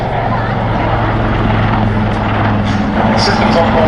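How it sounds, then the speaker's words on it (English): A maritime attack helicopter resembling a Westland Lynx flies at the Duxford summer air show, its loud rotor and engine drone steady and close, with an announcer speaking over it. "teaching the next generation of pilots on this maritime attack helicopter, which may look quite familiar, it may look like a Western Lynx"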